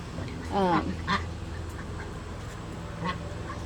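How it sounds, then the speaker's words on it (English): Ducks, including roan and palm-type birds, quack a few times close by in an enclosure, short raspy calls spaced apart over a low background rumble. "I'm going in here to show you these ducks"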